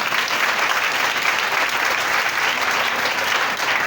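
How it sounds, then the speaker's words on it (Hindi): Sustained hand clapping from a church congregation during a Pentecostal service: a loud, steady wash of applause that continues evenly from start to finish without any talk. "आइए ताली बजाएं हाथ ऊपर करके।"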